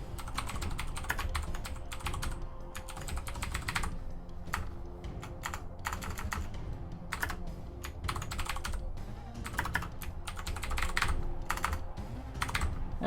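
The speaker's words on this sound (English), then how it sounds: "Typing. Typing hard." Fast computer keyboard typing runs in bursts of rapid clicking with short pauses over a steady background hum, close and clear throughout.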